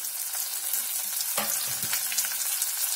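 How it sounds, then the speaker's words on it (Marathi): Cluster beans (guar) sizzle in hot oil with roughly crushed garlic, a steady close frying hiss broken by a sharp stirring clatter midway and scattered crackles, with no voices. "आता ही गवारीची शेंग आपल्याला तेलावरती चांगली परतून घ्यायची आहे"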